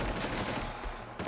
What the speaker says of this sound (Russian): Я же все равно по инерции выстрелил.